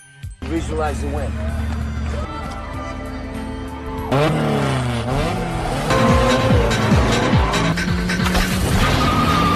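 Street race cars in a Fast and Furious film roar and rev loudly throughout, with shifting engine pitches, tire squeals and surging acceleration over a dense, layered soundtrack.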